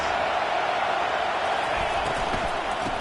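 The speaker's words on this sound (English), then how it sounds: "This crowd bringing the energy and noise early." Stadium crowd in a Michigan versus Washington football video game, a steady roaring wall of crowd noise with a few dull thumps late on, loud and unbroken throughout.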